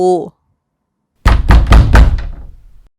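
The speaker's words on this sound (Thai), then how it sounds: "เสียงตบประตูดังทำให้แสงไฟในบ้านหลังนี้สว่างขึ้นมา" A hand slaps a wooden house door four or five times in a quick, loud, close series of heavy thumps, following a brief tone and a moment of silence.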